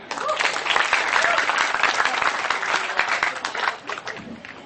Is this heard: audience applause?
yes